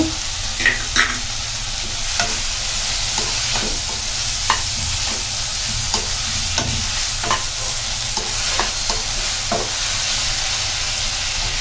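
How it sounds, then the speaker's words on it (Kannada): Cashews and almonds stirred in a hot frying pan while cooking kadai paneer, a steady close sizzle with repeated scraping stir strokes and faint clinks throughout, no voices. "ಇದಕ್ಕೆ ಇವಾಗ ಗೇರು ಬೀಜ ಮತ್ತು ಬಾದಾಮ್ ಹಾಕ್ಕೊಳ್ಳೋಣ"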